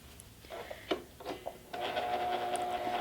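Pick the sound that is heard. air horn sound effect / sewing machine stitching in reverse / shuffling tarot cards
sewing machine stitching in reverse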